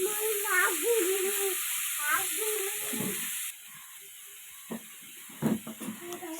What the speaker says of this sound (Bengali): এবারে শাকটাকে ভেজে নেব।